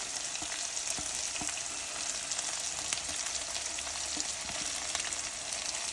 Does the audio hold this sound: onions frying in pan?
yes